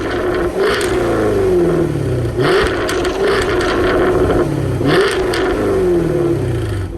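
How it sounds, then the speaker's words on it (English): A Jaguar F-Type R with a quad exhaust revs hard three times, each throttle blip swelling loudly and falling back to a rumbling idle, with no voices over it. "so I'll go ahead and throw an exhaust clip here"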